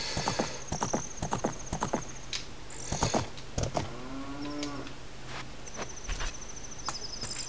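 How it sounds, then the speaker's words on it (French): A cow moos in Zelda: Ocarina of Time near Gerudo Valley, one drawn-out low call amid the game's clip-clopping horse hooves, chiming music and ambient effects. "Déjà, on entend une vache."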